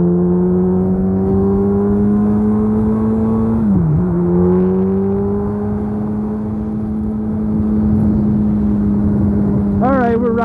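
A motorcycle cruises at expressway speed with a steady, loud engine drone and wind roar, its pitch dipping briefly once, as the rider's voice talks over it.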